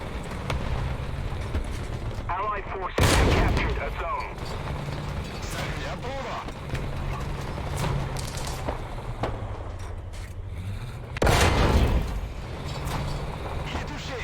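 In a tank video game, an AMX-13 M24 fires two loud, booming cannon shots several seconds apart over a low engine drone, while someone talks throughout.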